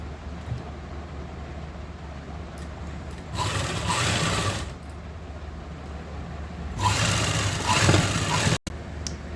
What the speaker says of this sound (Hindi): आधे इंच के मार्जिन पे सिलाई लगाऊंगी आगे से